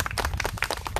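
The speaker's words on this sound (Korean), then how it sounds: "박수 한번 주세요" Audience at a book concert claps in a short burst of scattered hand claps, fairly close and brief.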